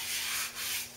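Stick-on sandpaper rubs back and forth along a bow limb in a couple of soft, even strokes, ending with a light tap.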